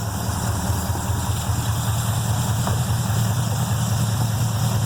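A rebuilt Chevy small-block 350 V8 idles steadily in a square-body Chevy 4x4 truck after a timing adjustment, a continuous low rumble with even vibration and no talk.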